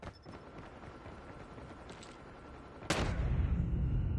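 Gunfire in the mobile shooter Call of Duty Mobile, with a loud burst of shots at close range partway through over a busy game soundscape, no talk.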